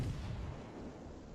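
Heavy battleship guns of the Massachusetts boom in World of Warships, a dense low rumble of naval artillery fire that fills the whole moment and slowly decays, with no talking.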